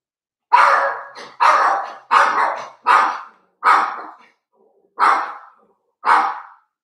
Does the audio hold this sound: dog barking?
yes